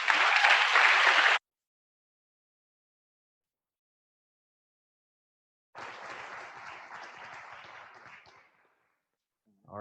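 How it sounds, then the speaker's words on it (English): An audience applauds Jason and Matthew, a short loud burst of clapping that stops abruptly, then after several seconds of silence a second, softer stretch of crowd applause that fades out. "I hope you would also join me in applauding Jason and Matthew"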